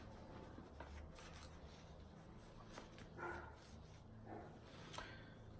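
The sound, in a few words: dog barking at gardeners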